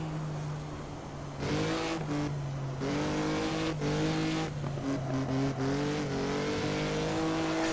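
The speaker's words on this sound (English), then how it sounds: "I don't want to stop driving this car, it's just so much fun." A race car is pushed hard around a track, its engine revving and dropping repeatedly through gear changes, loud and close, with brief tire squeal and no voices.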